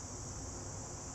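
Insects such as crickets and cicadas drone steadily outdoors among cannabis plants, a continuous high-pitched shrill buzz without break, moderately loud and alone.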